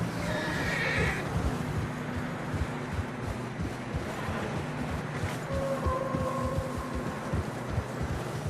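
Horse in the Western video game Red Dead Redemption 2 giving a clear whinny, followed by hoof clip-clop and ambient outdoor noise, with a second fainter neigh later on.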